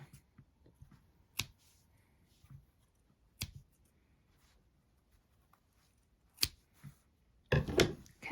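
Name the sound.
scissors cutting yarn tails of a crochet amigurumi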